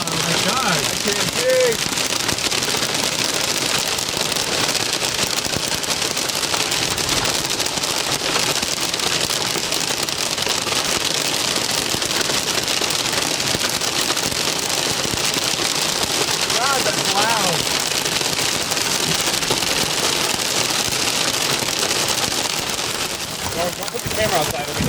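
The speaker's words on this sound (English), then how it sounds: "we'll be hit by hail" Quarter-size hail pounds relentlessly during a severe thunderstorm with strong winds in Chino, a loud, dense roar of pelting impacts lasting nearly half a minute while people exclaim nearby.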